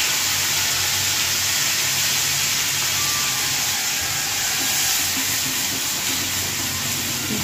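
Onion and garlic paste hits a hot pan for chingri kosha, giving a steady, dense sizzle and hiss that holds evenly throughout, close and fairly loud with no voices.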